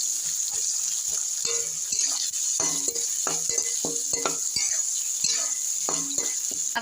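Chopped onion sizzles in a pan for broccoli chicken while a spatula scrapes and knocks against the metal in an irregular rhythm, close and loud, over a bright continuous frying hiss, with no talking.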